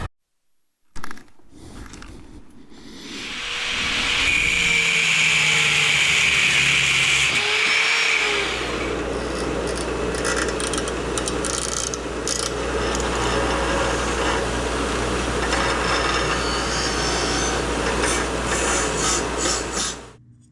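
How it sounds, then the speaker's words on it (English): Motorcycle bolts for a Moto Guzzi Griso 1200SE are cut down by hand, producing a loud, continuous close-up rasping and grinding. A whining tone rises early on, and a low steady hum runs underneath. "Let's see if we can trim those bolts and fit them."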